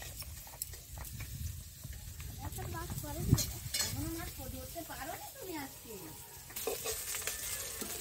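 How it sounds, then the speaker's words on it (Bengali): Pieces of rupa patia fish fry in hot oil with a steady sizzle and occasional stirring clinks of a pan, while a voice talks softly over the cooking. "আমার সব মাছ ভাজা হয়ে গেছে"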